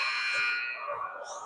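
Scoreboard buzzer at a high school hockey game between Eden Prairie and Chaska/Chanhassen, sounding as a loud, sustained harsh tone through the whole moment with an arena murmur beneath it.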